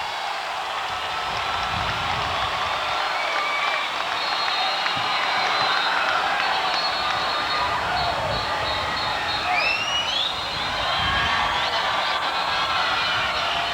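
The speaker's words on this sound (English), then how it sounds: "the crowd's beginning to go a little wild with the woofing" A Chicago Bulls championship crowd roars and cheers with rhythmic woofing chants, a dense, continuous wall of noise from a large gathering at the 1991 celebration.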